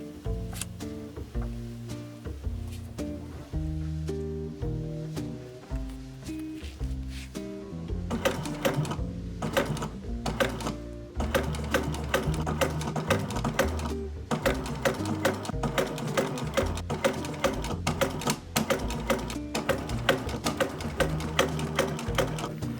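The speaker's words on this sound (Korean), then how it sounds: "재봉 끝." A sewing machine stitches a shoe upper made from paper cup holders, running in fast, steady mechanical bursts with short pauses, close and alone with no talk.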